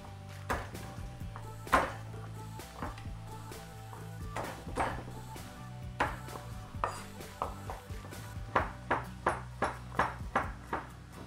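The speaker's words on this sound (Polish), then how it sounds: "Teraz wkroję trzy ząbki czosnku." A knife slices three garlic cloves on a cutting board in a home kitchen, giving a string of crisp taps, scattered at first and then quicker and more regular, over a low steady background hum.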